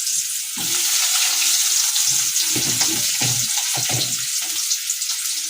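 Potatoes dropped into hot oil in a pan, frying with a loud, dense, steady sizzle, while a spatula stirs with intermittent scraping and knocks underneath.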